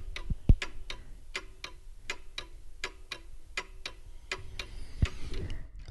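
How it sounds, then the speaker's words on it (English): A 150-year-old mantel clock in a living room ticks steadily at about two beats per second, faint and somewhat distant in a quiet room, with a couple of soft thumps. "you may hear this sort of quiet ticking of an ancient clock in the background"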